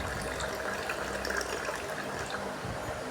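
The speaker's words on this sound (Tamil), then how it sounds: "அந்த ஐஸ் வாட்டரையும் சேர்த்துருக்கோம்." Ice water pours into raw mango and cucumber juice with a steady, close, continuous gushing splash that holds throughout.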